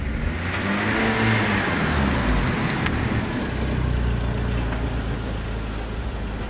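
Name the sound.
Citroën C2 S1600 rally car approaching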